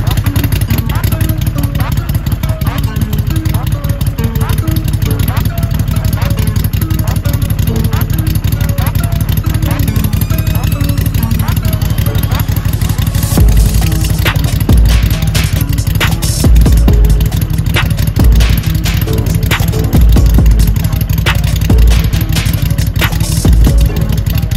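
Engine of a vehicle fitted with a freshly installed Torque Series rear differential and drive shaft, running steadily throughout with a low, continuous rumble and a few sharper thumps in the second half.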